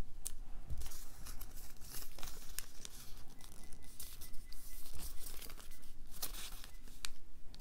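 Paper is creased and folded for origami, giving close, soft crinkling and sharp crackling snaps scattered unevenly, with no voices.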